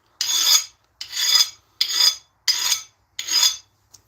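A hard knife blade is drawn across a glass-like surface five times in a steady rhythm, each stroke a harsh, close rasping scrape separated by brief silences.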